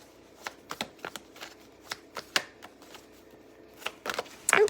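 Tarot deck being shuffled to pull one more card, a run of quick papery riffles and slaps that builds into a louder flurry at the end, close and alone without talk.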